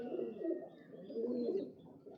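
Pigeons giving low murmuring coos close by, two soft rolling phrases with a faint chirp, quiet overall.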